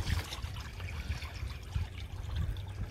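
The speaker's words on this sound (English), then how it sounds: "I'm using a nice dose of Odorzyme cold water, cold tap water to wash this rug in." Cold tap water splashing and trickling over a rug being soaked in a rug shop, a close, uneven wet rush with intermittent low sloshing thumps.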